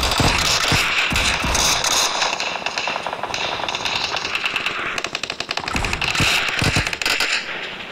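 Rapid automatic gunfire from the mobile battle royale game Free Fire crackles loud and close in dense bursts, with several sharp single shots mixed in and short breaks between volleys, and no talk.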